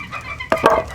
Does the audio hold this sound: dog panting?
no